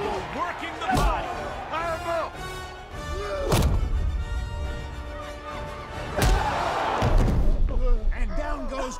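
Heavy body punches land in a Creed II boxing fight, a few loud thudding impacts spaced apart under a commentator's voice and crowd noise.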